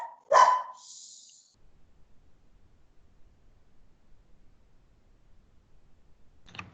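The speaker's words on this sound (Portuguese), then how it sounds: "Cachorro." A single loud, close dog bark rings out once, then near silence follows with a faint low rumble.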